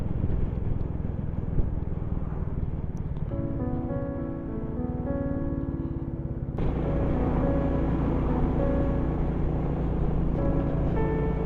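Royal Enfield Classic 350 single-cylinder motorcycle riding along countryside roads, its engine a steady drone under wind rush, with the pitch shifting as it changes gear partway through.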